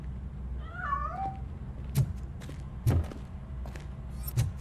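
A single short cat meow from the video game RoboCop: Rogue City, with a rising-falling pitch, followed by a few dull thumps spaced about a second apart.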